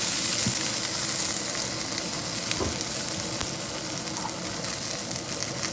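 Hot oil crackles in a pan for chicken fried rice, a loud, continuous close-up sizzle with scattered pops and occasional clinks.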